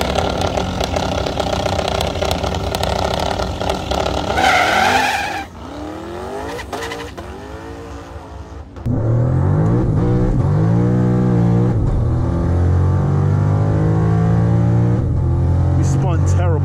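A Dodge Hellcat launches on a drag track with its tires spinning, giving a loud, roaring engine that rises in pitch with screeching rubber, dips briefly, then surges again and holds close and strong.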